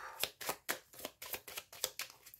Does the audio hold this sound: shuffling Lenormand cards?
yes